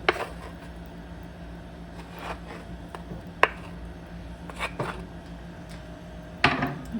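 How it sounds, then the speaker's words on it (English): A utensil stirs cream cheese into tomato sauce in a pan, giving soft scraping and a few sharp clinks against the metal spread over the clip, with no talking. "Stir that around."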